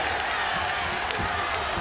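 Spectators cheer and shout at a ONE mixed martial arts bout between Kevin Belingon and Bibiano Fernandes, a dense arena crowd roar with scattered louder yells and claps under light commentary.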